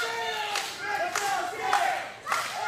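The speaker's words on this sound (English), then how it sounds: "listen to this crowd come to life for Mr. Good Luck Sam Adams" A live pro wrestling crowd cheers at a Battlefield Pro Wrestling event. Noisy roaring rises in rhythmic surges about every half second, like chanting or clapping.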